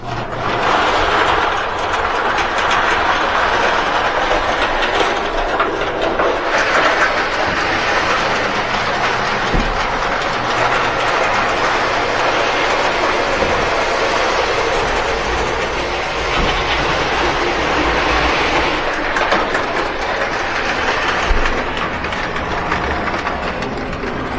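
A model train runs steadily along layout track with a continuous rolling clatter and faint rhythmic clicks, fairly close and unbroken, no voices.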